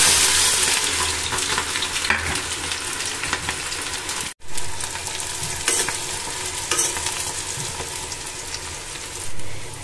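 Onions frying in hot oil give a loud, steady sizzle with stirring scrapes throughout, dipping into a short silence midway before the crackle resumes.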